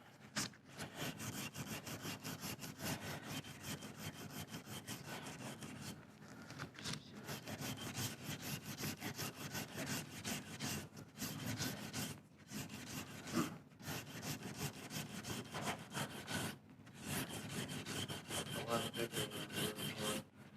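Hand sanding of a hard CA finish between coats, a quiet, repeated rasping scrub of back-and-forth strokes with several short pauses.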